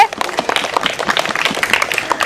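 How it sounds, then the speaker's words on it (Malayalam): A crowd applauding at a school event, dense clapping from many hands sustained steadily and fairly loud for a couple of seconds. "നല്ല ക്ലാപ്പ് ചെയ്തേ"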